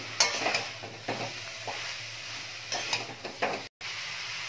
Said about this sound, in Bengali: এবার ভালো করে চাল কুমড়োটা দেখো একটু নাড়িয়ে চাড়িয়ে নিচ্ছি